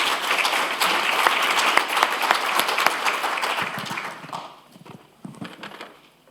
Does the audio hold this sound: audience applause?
yes